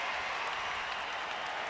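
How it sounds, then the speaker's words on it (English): Dense crowd roar and applause fill the stadium at an NFL Pro Bowl 2004 kickoff, a steady, loud wash of cheering with no pauses throughout. "And the crowd loves it."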